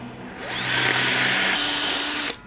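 A power drill whines steadily as it enlarges the engine bolt holes on a Honda C90 motorbike, rising in pitch and holding, then cutting off after about two seconds; close and loud, no talk.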